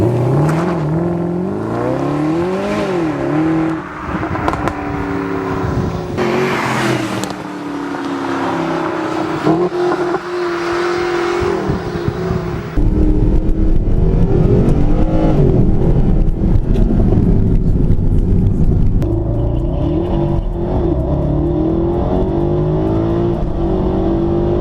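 A Mercedes SLS AMG's engine revs repeatedly with a deep exhaust roar, rising and falling loud and close, then settles into a heavier, sustained rumble and growl in the second half.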